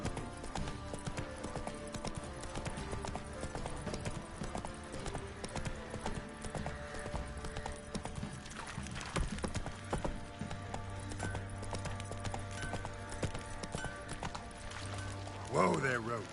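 Roach the horse's hooves clip-clop steadily in The Witcher 3, with a brief whinny near the end, under game music and a voice.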